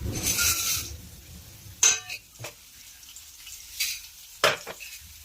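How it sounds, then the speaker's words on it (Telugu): Coriander seeds, chana dal and urad dal frying in a pan for a bitter gourd and onion spice powder: a brief hissing sizzle at the start, then a few sharp scraping stirs, close and moderately loud, with no talk. "కొన్ని ధనియాలు వేసుకున్నాం. వేయించుకున్నాం."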